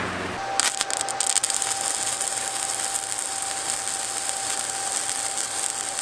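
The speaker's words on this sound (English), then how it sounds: "Running a few test welds here." Test welds are run on the thin sheet-metal windowsills of a school bus being converted, a steady loud crackling hiss that starts abruptly and runs unbroken for several seconds.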